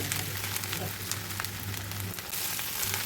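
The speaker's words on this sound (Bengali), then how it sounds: "চিংড়ি মাছের সাথে ডিমের ঝুড়া ভালো করে মিশিয়ে ভাজি করে নিলাম" Prawns and crumbled fish roe fry in a pan with a steady, even sizzle and crackle, close and loud, running without pause and with no talk over it.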